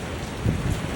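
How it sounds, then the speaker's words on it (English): Heavy hail pelts down during an Ohio storm, a dense, loud, continuous roar of impacts with heavier thuds mixed in. "Big hail."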